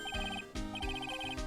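A public phone rings in the Phoenix Wright: Trials & Tribulations game at Dusky Bridge. Two loud, close bursts of a repeating electronic ring pattern are separated by a brief gap.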